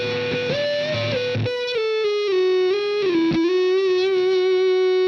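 An electric guitar plays sustained, held notes through an Orange Vintage Distortion pedal's fuzzy, saturated 70s-style tone, with a brief slide between pitches, alone and fairly loud.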